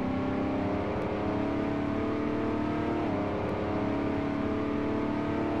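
A 1968 Dodge Dart engine in Car Mechanic Simulator 2018 drones loudly and steadily at high speed in an upper gear. The pitch holds nearly level with a slight shift midway.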